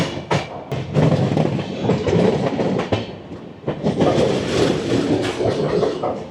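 A Gatimaan Express train runs on the rails near Gwalior Junction in Madhya Pradesh, making a loud, steady rumbling roar with rhythmic clicks and thumps from the wheels passing over rail joints.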